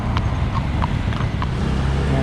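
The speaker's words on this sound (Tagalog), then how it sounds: "Kabayo." Horse hooves clip-clop at a steady walking pace on a road near a bridge, under loud wind and traffic rumble heard while riding a bike.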